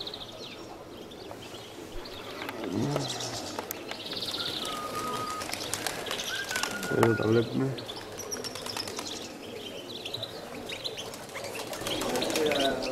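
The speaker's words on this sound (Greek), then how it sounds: "Αυτά είναι τα περιστέρια που πήγαν, ήρθαν δυνατά με βαζούρα, καπνίλα." Pigeons coo and wings flap in bursts as birds arrive, with faint chirps, a man's quiet speech and light background noise outdoors.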